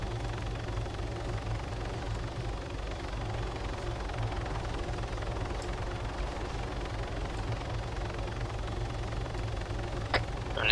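Helicopter engine droning steadily with a dense, constant rotor rumble and whine, loud and continuous throughout, with a faint click near the end and no talking.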